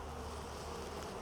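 Honey bees at an open hive during an inspection make a dense, continuous buzzing drone, close and steady for about a second.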